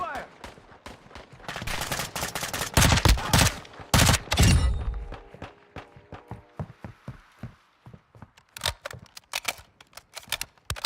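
Warzone 2 DMZ gunfire: fast rattling automatic bursts and sharp nearby shots, loud at first and then thinning to scattered spaced shots, with voices talking over parts of it.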